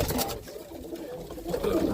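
Roller pigeons cooing inside a loft, a soft, continuous murmur of low throaty coos from several birds close by, with no talking.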